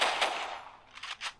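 Gunfire in the Free Fire battle royale game, a quick burst of sharp shots followed by a few separate cracks, loud and close, with no talk.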